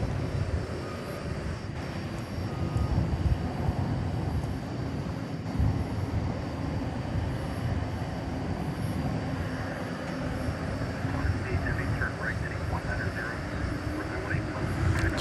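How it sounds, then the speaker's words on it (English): A five-year-old Qantas Boeing 787-9 Dreamliner at DFW Airport at night gives off a steady, low jet-engine rumble that holds even and distant throughout, with a faint hiss above it. "It's a 5-year-old Dreamliner Dash 9."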